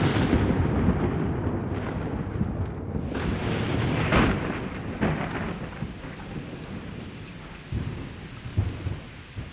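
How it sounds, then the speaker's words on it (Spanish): A thunderstorm sound effect rumbles with heavy, steady rain hissing throughout, a loud crack of thunder early on, then rolling, fading thunder and scattered drips. No one speaks. "La tormenta."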